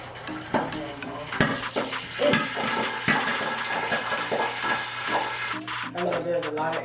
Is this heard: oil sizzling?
yes